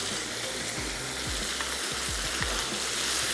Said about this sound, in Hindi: थोड़ा सा भूनते हैं मसालों के साथ।